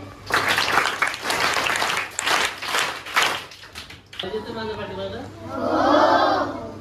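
Students at a school give a burst of clapping that swells and fades over a few seconds, followed by a voice speaking.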